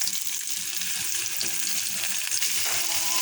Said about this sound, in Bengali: এখন এখানে দিয়ে দেবো পেঁয়াজ কাঁচামরিচ কুচি।